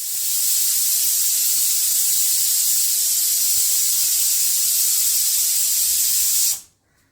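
Steady loud hissing whistle from a pressure cooker cooking dried peas (vatana) with turmeric on the stove, a continuous jet of steam that runs for several seconds, then cuts off abruptly.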